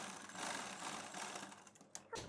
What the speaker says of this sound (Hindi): निशान पे फोकस करेंगे और सिलाई लगा देंगे